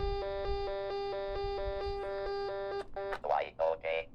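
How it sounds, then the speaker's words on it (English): A Braille Lite 40 note taker from Blazie Engineering sounds its alarm, a steady series of loud, evenly repeated electronic beep pulses lasting nearly three seconds, then a person starts talking. "it sets the alarm for some reason, and it sounds like this. It's really annoying."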